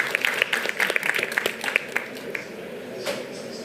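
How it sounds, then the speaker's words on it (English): An audience at a hydrogen and net-zero panel discussion claps for the panelists, a short burst of crisp applause that fades after a couple of seconds into room noise. "can I please ask for a round of applause for all of our excellent panelists?"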